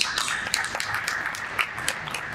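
Audience applause at a conference closing session, a steady dense patter of many hands clapping throughout with a few sharper claps standing out.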